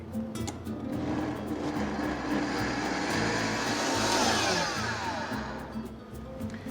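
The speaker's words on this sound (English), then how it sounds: "put that into the blender, and again, we're gonna make a puree." A blender whirs steadily for several seconds pureeing herbs, a continuous high motor roar that swells slightly then eases toward the end.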